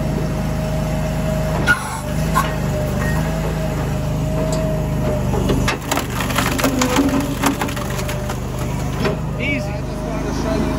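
Japa 365 Pro firewood processor splitting a knotty log about 8 to 10 inches wide, with a steady mechanical drone, sharp cracks and splintering of wood partway through, and another burst of cracking near the end.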